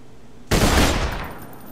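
A single heavy gunshot from a weapon in Borderlands 2 bursts out loud and close after brief quiet, its boom then decaying over about a second.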